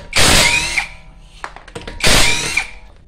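Removing the wheel nuts from a VW Cross Polo with a 17 mm socket on a power tool: two loud, close, whirring bursts about two seconds apart, with clicks and clunks between them.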